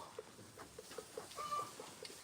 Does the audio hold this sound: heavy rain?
no